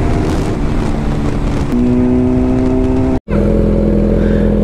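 A Suzuki Hayabusa motorcycle engine runs loud and close with a steady drone and rising pitch, one sharp cut-out near the end, then resumes without voices.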